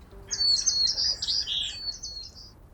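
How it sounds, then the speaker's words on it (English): A white-crowned sparrow sings one clear, high, trilling territorial phrase of varied notes lasting about two seconds, close and distinct against quiet background. "the white-crowned sparrow sings to mark its territory"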